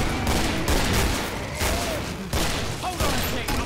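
Rapid bursts of gunfire in the video game Killing Floor, repeated volleys of shots in quick succession with brief pauses between them, loud and close, with a voice faintly under the shooting.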